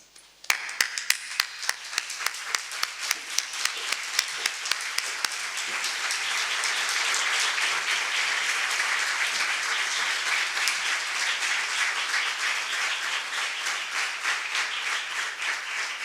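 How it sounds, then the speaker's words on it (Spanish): Applause at an academic induction ceremony, opening with a few distinct claps before swelling into sustained, dense clapping from a sizable audience that holds steady and moderately loud. "Un aplauso que queda mejor."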